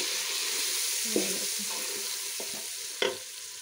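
Salted turnips sizzle in a pot while being stirred, a steady soft frying hiss broken by a few scraping clacks of the spoon against the pot.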